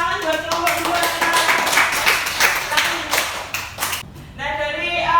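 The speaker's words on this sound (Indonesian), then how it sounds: "tepuk tangan buat kelompok 2" A class of schoolchildren applauding a student group, a dense patter of many hands clapping at close range for about four seconds, then a short dip before the clapping swells back up.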